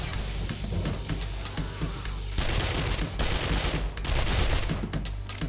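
Rapid SMG gunfire from the video game 7 Days to Die, played from an Alpha 20 horde base at night, with dense sustained bursts that surge louder in several waves throughout and no speech.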